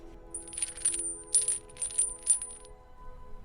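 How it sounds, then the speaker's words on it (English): Metal chains rattled by a prisoner in VR Skyrim, a few light jingling clinks in quick clusters over a quiet low hum. "Stop rattling those chains."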